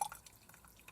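Tea trickles into a cup in a taiga cabin, faint soft drips and a light splash fading to a quiet, intermittent pour, close and alone.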